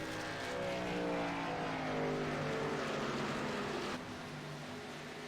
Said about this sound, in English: You can hear the car coasting into turn one there.